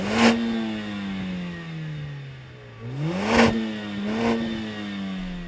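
Mercedes-AMG A45 S four-cylinder engine with sports exhaust in race mode, revved sharply from idle several times, each blip climbing and falling with crisp exhaust crackles, loud and close with no talk.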